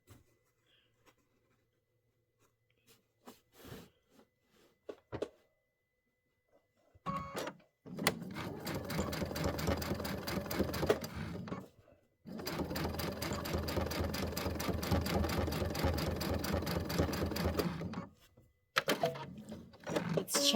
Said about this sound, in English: I'm going to sew that first.